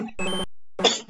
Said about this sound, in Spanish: ¿Quién sabe por qué cuando hablo últimamente como que me da tos